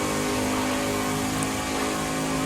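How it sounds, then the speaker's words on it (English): A Nissan V8 prototype race car in Project CARS 2 holds a steady, dense engine roar at speed, a constant loud drone with a hiss like rain layered over it and no pause. "lovely sound of the thunder behind us as the this nice V8 thunders away"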